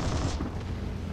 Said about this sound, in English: These cannons do work.